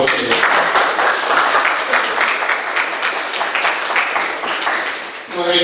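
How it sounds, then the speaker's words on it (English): A seminar audience at a Brazilian jiu-jitsu event in Ziro applauds, loud, dense clapping that holds for several seconds, then tapers off, with a voice starting up at the very end. "I think we need to give a round of applause"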